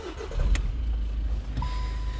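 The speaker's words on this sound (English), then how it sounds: "And I'll just start the car up." A 2015 Volkswagen Golf GTD 2.0 diesel starts with a brief starter whir and catch, then settles into a low, steady idle rumble, close and fairly quiet, with a faint chime tone near the end.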